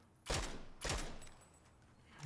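Gunfire in the battle royale game PUBG, two sharp loud shots about half a second apart, each with a short ringing decay, standing alone without talk.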